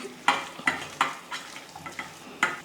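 Onion pakoda batter being mixed by hand after hot oil is added, a run of wet, squelching stirs in a quick, regular rhythm, close and clear with no talk.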